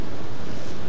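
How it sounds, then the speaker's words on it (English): Ocean waves roll in at a shore by a lighthouse and harbour wall at night, producing a loud, continuous roar of surf mixed with heavy wind buffeting the microphone. "I'm just looking out to sea now to try and see the waves coming in"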